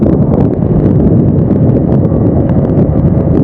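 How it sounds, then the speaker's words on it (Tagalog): Strong mountain wind on the road between Sagada and Banaue in the Philippines roars continuously and loudly across the microphone, a heavy buffeting rumble with no talking. "Mahangin pa."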